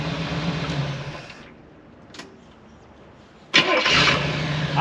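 Carbureted 350 engine in a long-stored Pontiac Firebird is cranked and catches, with a loud running burst, a quieter lull, then a sharp loud restart that keeps running close by.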